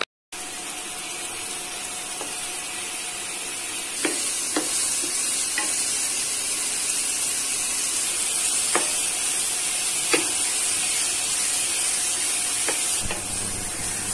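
Paneer cubes fry in a pan of oil until golden, giving a steady broadband sizzle throughout with a few sharp clicks and taps of stirring, alone without speech.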